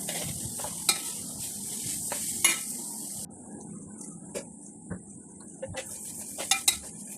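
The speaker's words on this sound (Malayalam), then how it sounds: "അതിന് ശേഷം സവാള പച്ചമുളക് അതിലേക്ക് ചേർത്ത് കൊടുക്കുക. എല്ലാം കൂടി നന്നായി വഴറ്റുക." Garlic, ginger, onion, green chili and curry leaves sautéing in a pan for chicken curry, a hissing sizzle with sharp metal spoon clinks and scrapes against the pan, close, quieter after a few seconds, no talk.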